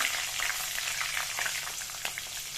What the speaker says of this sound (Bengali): এখন কড়াইতে আমার যে তেল ছিল ওই তেলেই আমি এখন সম্বাস দিয়ে দেবো